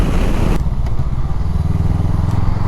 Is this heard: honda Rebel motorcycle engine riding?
yes